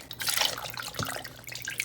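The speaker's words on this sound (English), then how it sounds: "I'm going to pour the liquid over the cucumber like this." Fermenting brine for Hungarian kosher dill pickles is poured through a sifter over cucumbers, making a close, steady splashing trickle with drips.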